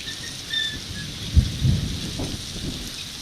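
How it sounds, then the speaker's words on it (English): Thunder rumbles through a storm on the seafront at Bognor Regis, picked up by an outdoor webcam, with a low crack and rolling boom over steady rain hiss and wind noise. "we're hearing thunder"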